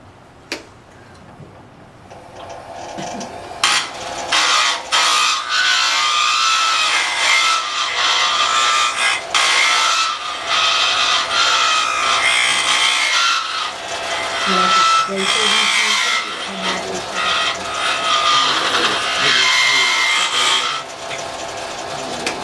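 Wooden top spun on a lathe and cut with a rounded hollowing tool, giving a steady scraping, hissing rasp that runs throughout with small knocks, while people talk quietly underneath.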